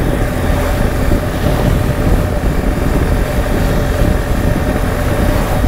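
A BMW R 1200 GS motorcycle engine running steadily, a loud constant rumble mixed with broadband wind-like noise throughout with no pauses.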